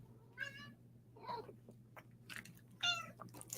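A pet cat named Zoni meows several times at close range, short rising calls separated by brief pauses over a low steady background hum.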